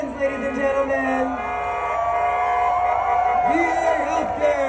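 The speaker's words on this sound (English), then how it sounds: "Make some noise for our veterans" Crowd at the 2016 Las Vegas Pride Parade cheering and whooping for veterans, a steady loud roar of voices with yells rising through it, while an amplified announcer's voice carries over the noise.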